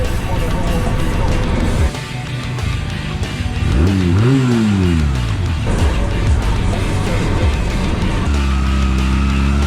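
A small Honda Rebel motorcycle engine runs loud and close, idling roughly, then giving one quick rev that rises and falls before settling back into a steady idle.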